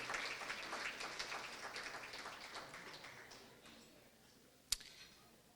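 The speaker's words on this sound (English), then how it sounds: "So give them a wonderful round of applause" A crowd at a synagogue's 64th anniversary dinner claps in a dense patter that fades over several seconds, ending with one sharp knock, with no talk over it.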